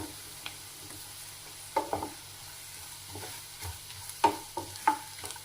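Masala roasting in a pan with a spatula, steady low sizzle and frying under repeated scraping and tapping stirs, a few sharper clinks against the pan, close and without speech.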